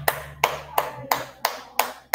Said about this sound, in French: Applaudissons pour.